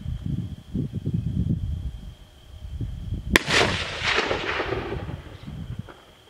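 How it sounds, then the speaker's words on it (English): A single loud gunshot cracks out while hunting, sharp and close, then rolls away in a long echoing boom over a low background murmur. "You shot over him."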